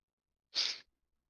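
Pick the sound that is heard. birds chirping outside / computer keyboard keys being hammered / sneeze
sneeze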